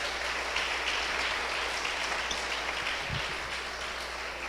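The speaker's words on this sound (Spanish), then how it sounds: "Démosle un fuerte aplauso a Dios." A church congregation claps loudly and continuously for several seconds, a dense and steady burst of applause with no talking over it.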